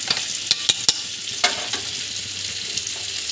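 Yogurt is stirred into a hilsa fish mustard curry in a pan: a few sharp spoon clicks against the pan at first, then a steady soft sizzle and stirring.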